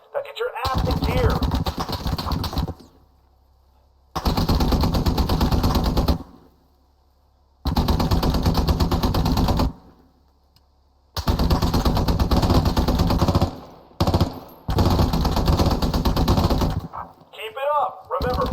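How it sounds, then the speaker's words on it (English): Bursts of rubber-bullet automatic gunfire in a Squad video game training exercise, loud sustained volleys of about two seconds each separated by short pauses, alone without talk. "They may be firing rubber bullets, but they hurt."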